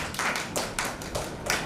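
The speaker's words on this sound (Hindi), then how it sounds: "अरे ताली तो लगाओ।" Several quick bursts of hand claps from a small audience at a Sanskrit knowledge quiz, coming in uneven rhythmic clusters, moderately near and fairly soft.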